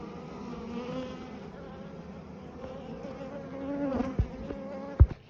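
Honeybees hum around an open backyard beehive during a colony inspection, a steady close swarm buzz with a few louder knocks and bumps near the end.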